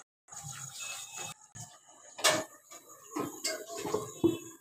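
A metal lid clatters onto a cooking pot of simmering chicken chaap in a home kitchen, with several sharp clinks and rattles amid other pan sounds.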